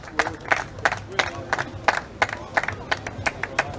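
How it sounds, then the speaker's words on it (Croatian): A crowd claps for two people at a live event, with loud, rhythmic hand claps close by and some voices mixed faintly into the clapping. "Molim vas aplauz za Adija i za Danijela."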